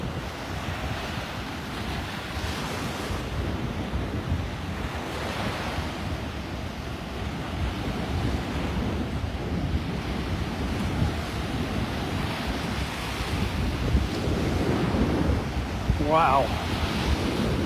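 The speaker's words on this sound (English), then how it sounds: "It's going to be a long walk home into this wind." Strong wind buffets the microphone over steady, broad surf washing onto a Gulf beach at Delnor-Wiggins in North Naples, Florida, continuous and loud throughout, with a brief voice exclamation near the end.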